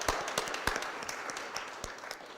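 Scattered, fairly faint clapping from a small audience at a city Board of Aldermen meeting, welcoming a ward committeeman and alderman candidate, with individual claps spread irregularly across the moment.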